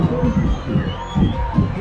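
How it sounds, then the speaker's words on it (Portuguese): A football crowd roars during a tense penalty shootout in a cup final, a dense, steady wall of massed voices with rhythmic swells like chanting, loud and continuous throughout. "Olha a pressão da torcida"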